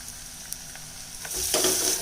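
Garam masala and fennel powder sizzle and fry in a hot pan, a soft crackle that grows louder and busier toward the end, with a few stirring scrapes.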